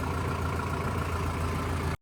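A parked tractor's diesel engine idling steadily at the roadside, a continuous low rumble that cuts off abruptly at the end.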